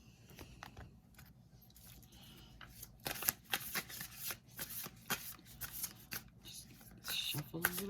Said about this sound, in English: Shuffle a little bit here.